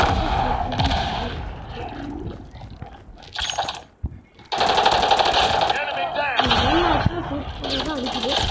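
Call of Duty Mobile gunfire rattles in sustained automatic bursts, loud and close, broken by a short pause. Someone talks over much of the shooting.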